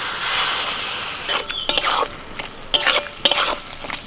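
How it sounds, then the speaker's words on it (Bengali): Mustard-poppy paste water is poured into a pan of frying taro leaves and shrimp, giving a broad sizzling hiss. A spoon then stirs and clinks against the pan in several sharp, separate scrapes. "এবার আমি সরষে পোস্ত বাটার জলটা দিচ্ছি।"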